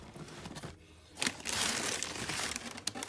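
Wrapping paper crinkles and rustles as a pair of 2022 Nike Air Jordan 2 Chicago sneakers is unboxed, with a short pause followed by dense close crumpling and a few sharper crackles.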